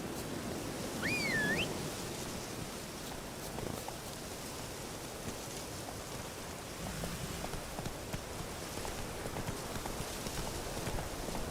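A horse gallops in The Witcher 3: Wild Hunt, a steady, fairly faint clip-clop of hooves over a dense, noisy game soundscape, with a brief high whistle near the start.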